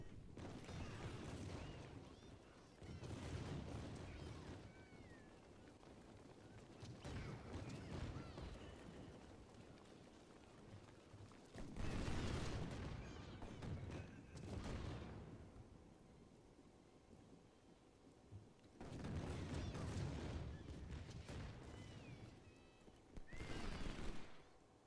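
Distant battlefield fire in the Civil War strategy game Ultimate General: Civil War, rolling bursts of massed gunfire and booms that come in waves separated by quieter lulls, with faint horse whinnies in the mix.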